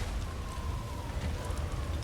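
Steady rain and storm wind rush continuously through a desert scene in God of War Ragnarök, a dense wash of noise at moderate level with a faint tonal whine drifting across.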